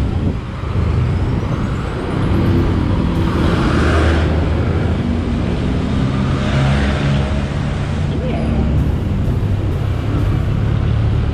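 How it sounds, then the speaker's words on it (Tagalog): A Honda BEAT Fi scooter being ridden on a road, with a steady engine hum mixed with wind and traffic rumble that stays loud and constant throughout. "Huling bira sa Honda Beat."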